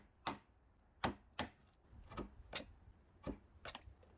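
A chisel cutting across the grain of wood while building a knock-down side table, giving a series of sharp, close taps and knocks at an uneven pace, about nine strikes with quiet gaps between them.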